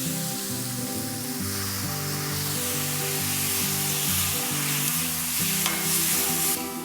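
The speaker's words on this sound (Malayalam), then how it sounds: "കുറച്ച് വെള്ളം ചേർത്ത് വേവിക്കാം." Green chillies simmer in a pan with added water for a homemade sauce, bubbling and sizzling in a loud, steady hiss with soft stirring and no talk over it.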